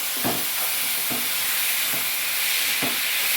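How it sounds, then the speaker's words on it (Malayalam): Tomatoes fry in a hot pan for an egg and soybean curry, a constant loud sizzle with four soft, regularly spaced scrapes of a spoon stirring through them. "തക്കാളിനെ ഇട്ട് കൊടുക്കാം ഇനി ഒന്ന് ഇളക്കി കൊടുക്കാം"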